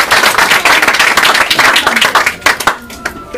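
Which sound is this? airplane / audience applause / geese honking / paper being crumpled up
audience applause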